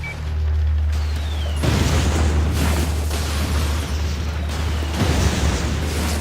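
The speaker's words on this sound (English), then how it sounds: "he shot a rocket launcher at me point blank" Several booming rocket-launcher explosions from inFAMOUS 2 burst one after another at close range. Each blast is loud, with a broad roar, and no one talks over them.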